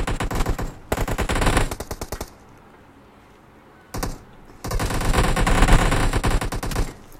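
Automatic gunfire from the game PUBG: two long, loud bursts of rapid shots, separated by a brief quiet gap and a single short burst, with dense firing filling the final three seconds.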